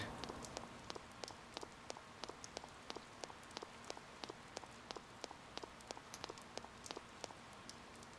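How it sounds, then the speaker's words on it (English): Rain falls steadily in the video game Persona 4, a soft continuous patter with many sharp individual drops ticking over a faint, even background hiss. "Because, it's raining."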